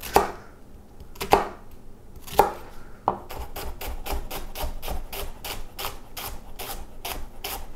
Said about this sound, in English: Gonna chop the shallot.